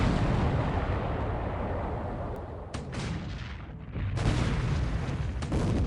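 Heavy explosions and gunfire from a WWII carrier battle video game, with destroyers under attack, form a dense, continuous rumbling barrage with sharper bursts near the middle and end, loud throughout and without speech.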